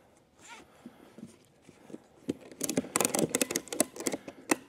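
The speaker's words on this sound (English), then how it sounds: "Give her a couple of clicks, not too tight." A ratchet strap securing a lithium battery in a tray is cranked tight, a short run of sharp, close mechanical clicks and rattles that grows busier and louder toward the end after a quieter start.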